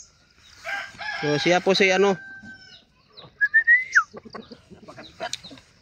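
Gamecocks, including a heavy five-kilo winner, crow loudly once up close, followed by scattered clucks and calls, with someone speaking briefly near the end.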